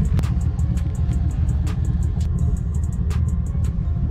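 A cammed 2006 Chevrolet Monte Carlo SS engine rumbles with a choppy, loping idle and repeated short blips of throttle, a deep steady engine sound close to the microphone with no talking.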